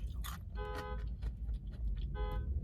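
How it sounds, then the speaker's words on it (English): Car horn honking outside, two short toots about a second and a half apart over a low rumbling street background, moderately distant. "Who's she honking at?"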